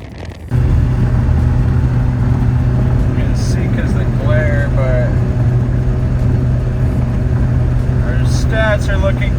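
A BMW E60 M5 running on E85 fuel drives along with a loud, steady engine drone filling the cabin, and the pitch rises and falls slightly as it revs.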